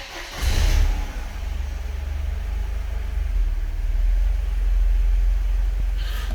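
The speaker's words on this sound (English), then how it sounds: "Let's see if this thing will actually start up." A Mercedes E220 W124 coupe with an M111 engine, up on a lift, catches after a brief crank and settles into a steady, close, low idle that runs to the end.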